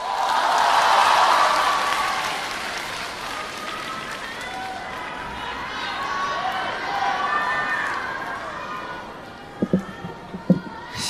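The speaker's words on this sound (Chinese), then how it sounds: "感谢大家的掌声鼓励啊" Sustained audience applause fills a crosstalk (xiangsheng) comedy show on its closing night, loudest at the start and then steady and dense, with a few sharp knocks near the end.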